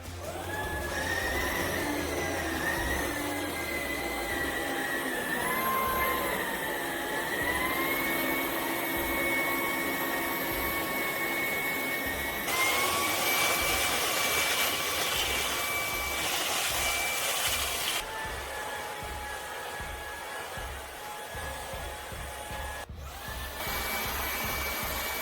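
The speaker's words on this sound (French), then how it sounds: "on va pouvoir essayer sa brosse rotative spéciale tapis pour voir un" A Ryobi 18V ONE+ cordless stick vacuum running with its rotating carpet brush: a steady, loud motor whine with shifting high tones, growing harsher midway as the brush works the carpet, continuous without talk.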